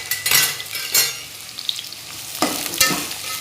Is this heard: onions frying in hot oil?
yes